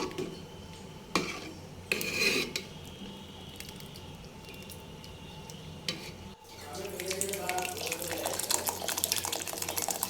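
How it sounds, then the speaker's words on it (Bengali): Jaggery being stirred into thick rice pudding (payesh) in a pot, with wet squishing and scraping that grows louder and denser toward the end, after a few soft clunks. "আমরা এখন গুড়টা মিশিয়ে দেবো"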